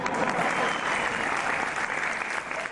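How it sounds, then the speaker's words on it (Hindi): Steady applause from a TV show audience fills the whole stretch, dense and even, with clapping holding at a constant level throughout. "बजा दो तालियां"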